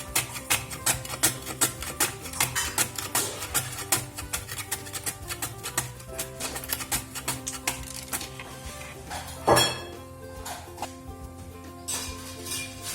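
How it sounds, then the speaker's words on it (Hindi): Unpeeled ginger is rubbed over a hand grater in quick, rhythmic strokes, making a steady run of close rasping scrapes with a brief louder clatter partway through. "इस तरह का ग्रेटर ले ले और अदरक को ग्रेट कर ले।"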